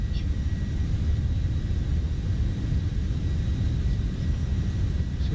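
Jet engines of a TFDi MD-11 airliner at takeoff thrust in Microsoft Flight Simulator, a steady loud roar with a deep low rumble and broad hiss that hold constant throughout, with no talk.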